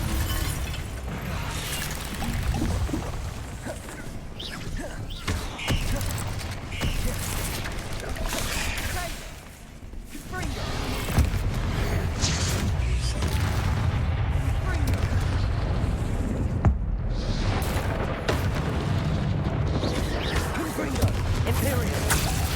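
Confringo fire-spell blasts in Hogwarts Legacy, repeated booming explosions and shattering crashes layered over a continuous loud clamour of combat, with speech mixed in.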